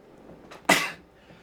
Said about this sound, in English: fat sneeze